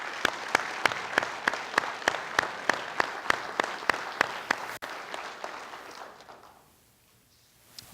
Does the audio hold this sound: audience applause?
yes